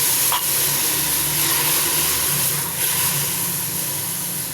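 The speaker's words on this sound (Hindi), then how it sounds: "इसको डाल के भून लें।" Vinegar, about a small half cup, poured into a hot pan and frying, giving a steady loud sizzle and hiss throughout with no talking.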